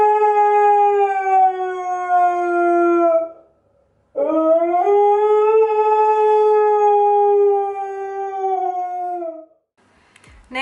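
A dog howls in two long, wavering, drawn-out cries joined by a short pause, close and loud, with no siren audible in the clip.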